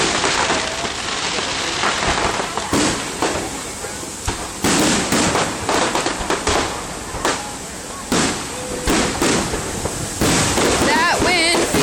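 Fourth of July fireworks burst loudly and repeatedly during an electrical storm on a windy night, the sharp cracks and booms overlapping in a near-continuous barrage.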